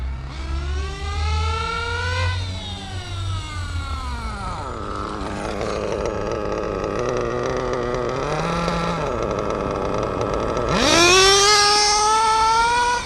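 A Reedy 121-VR nitro engine in an RC8T RC car runs at half throttle during break-in, a loud, steady buzzing whine that sags and dips in pitch, then climbs sharply to a higher scream near the end.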